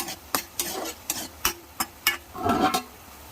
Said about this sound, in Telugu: మనం కట్ చేసుకున్న ఆనియన్స్ అండ్ మిర్చి వేసుకోవాలి. వేసుకొని ఒకసారి కలుపుకొని